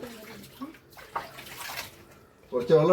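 Water from a supply is poured into cement during well cleaning, a splashing, gushing stream in short bursts between stretches of nearby talk.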